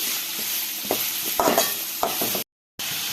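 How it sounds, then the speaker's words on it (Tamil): Chopped onions sauté in a hot pan for girmit, a steady sizzle broken by several scraping stirs of the spatula, close and fairly loud, with a brief total dropout near the end. "இப்போ நம்ம கட் பண்ணி வச்ச வெங்காயத்தை சேர்த்துக்கலாம். கொஞ்சமாக சேர்த்துக்கலாம். நல்லா வதக்கி விட்டுக்கலாம்."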